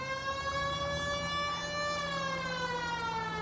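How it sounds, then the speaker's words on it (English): A police car siren in the video game LA Noire, set in 1940s Los Angeles, wails steadily and loudly throughout with a smooth rising and falling pitch and no voices over it. "Hit the siren."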